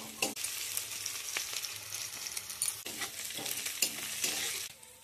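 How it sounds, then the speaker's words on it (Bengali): Onions sizzle in hot oil in a pan for an egg curry, a steady bright frying hiss broken by several sharp scrapes and knocks of a spatula stirring them close up. "লাল করে ভাজাও হয়ে গেছে পেঁয়াজটা"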